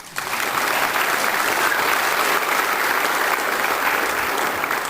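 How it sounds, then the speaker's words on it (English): An audience at a Lions Club variety show bursts into sustained applause for military veterans, many hands clapping loudly and evenly after a brief quiet start, with no talking over it. "Let's give one more round of applause."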